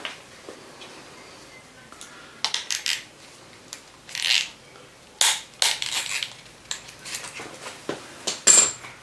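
A piston freshly coated in oil slides down into the bore of a 215 V8 engine block, with a string of short metallic clicks, scrapes and knocks at close range and no talking.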